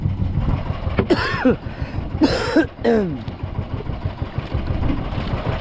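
A person coughs a couple of times at sea on a small boat, the harsh bursts standing out over a steady idling engine drone.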